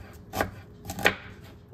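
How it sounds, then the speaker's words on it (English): Knife chopping an onion on a board at home, two distinct firm chops spaced apart, close and fairly quiet, with a brief bump at the end. "I'm just gonna chop my onion"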